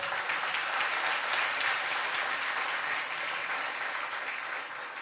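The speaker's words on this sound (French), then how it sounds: "vous allez entendre les applaudissements" Dense, steady applause from a large crowd at a sports awards ceremony, loud and continuous, easing slightly toward the end.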